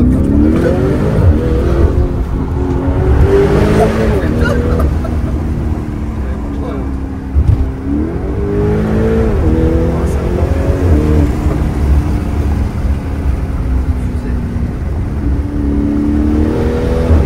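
A Mansory-tuned Lamborghini Urus with 745 hp, its engine droning loud and close with rising and falling revs, while people talk over it throughout.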